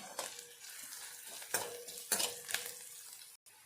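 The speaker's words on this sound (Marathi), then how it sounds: "हा कांदा आपला छानपैकी ते तेलामध्ये परतून घ्यायचा आहे" Onion sautéing in oil over medium heat, a steady close sizzle broken by a few scraping stirs against the pan.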